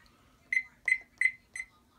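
A Thermoworks Chef Alarm cooking thermometer beeps four times in a steady, evenly spaced rhythm, sharp high-pitched tones that ring clearly and close with no one talking.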